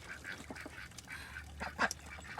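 Farm ducks kept for breeding quack and call in a loose, uneven scatter, with one louder honking call near the end, all set against a steady background of outdoor hum.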